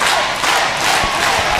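A wrestling arena crowd roars loudly and cheers without a break behind a woman wrestler in the ring, a dense wall of voices from many people.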